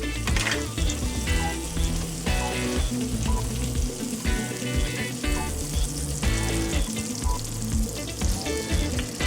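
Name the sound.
butter and olive oil sizzling in a warm pan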